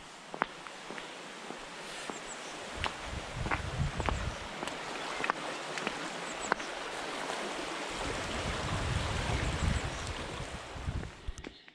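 The River Test flowing at Mottisfont, a steady broadband rush of water heard outdoors with wind buffeting the microphone and intermittent crunching footsteps nearby.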